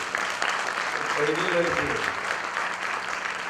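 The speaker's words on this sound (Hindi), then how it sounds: "जरा ताली बजाकर उसका स्वागत करो" An audience claps steadily to welcome a speaker at a Hindi-language talk, with continuous applause throughout and a voice speaking briefly over it.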